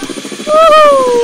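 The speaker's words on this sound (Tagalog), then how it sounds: "Wala, may helicopter na guys oh." A helicopter in the video game Gorebox gives a steady, rhythmic rotor chop, loud and close, with a whining engine tone that swells and then slowly slides lower.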